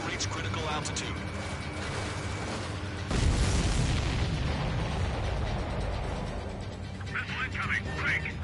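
An incoming missile explodes in an aerial combat video game with a sudden loud blast, then a long rumbling roar that slowly fades under constant engine drone, with radio-style voices near the end.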